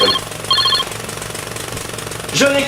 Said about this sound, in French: je suis tellement fatigué par ce bruit de marteau-piqueur, Alex.